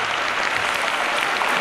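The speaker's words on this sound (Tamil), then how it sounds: "Please give a huge applause." An audience at a school celebration in Adirampattinam claps loudly and continuously, a dense, close wash of many hands with no break and no voices over it.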